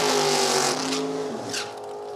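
A 1963 Corvette roadster and a 1981 Camaro F-body, both running big block Chevy engines, roar down a drag strip side by side at an NHRA race. The engines blare loud and sustained with tonal shifts, fading slightly toward the end.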